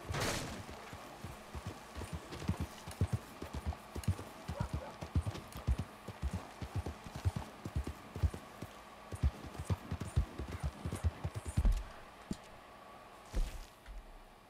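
A horse's hooves clip-clop in a steady, fairly close rhythm across a long stretch, with a few heavier thuds and scuffs near the end over faint background noise.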